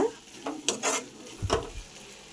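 Spices and chilli powder being stirred into egg thokku in a pan, with a few close scraping and clinking strokes of a spoon against the metal over a soft sizzle, irregular and brief, with no voices.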